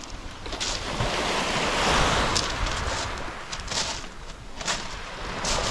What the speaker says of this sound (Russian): Послушать шум прибоя, шум моря.